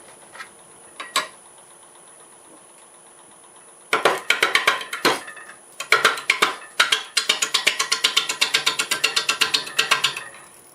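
A wood lathe spins a multi-axis bowl at about 500 RPM: a few isolated clicks, then rapid, rhythmic clacking bursts of the off-center blank, loud and close, with short pauses between runs.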